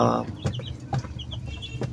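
Chickens clucking close by in short, irregular bursts over a steady low background hum.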